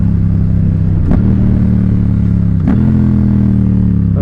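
Yamaha FZ-07/MT-07 motorcycle fitted with an Ixil L3XB exhaust, loud steady engine drone while riding, with two sharp gear-shift blips breaking the rhythm.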